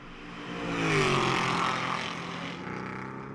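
Chevrolet Camaro and Ford GT4 race cars with V8 engines, racing at Road America, roar past at close range, engine noise swelling to a peak near one second and then holding loud and steady.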